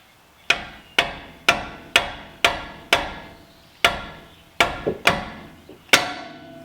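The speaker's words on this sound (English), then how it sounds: "take your 14 mil and your clown hammer, and then give it some knocks," A hammer knocks on a 14 mm socket to free a Mazda CX-30 rear brake rotor: ten sharp metallic whacks, close and loud, in an uneven rhythm with short pauses and ringing decays, and no talking.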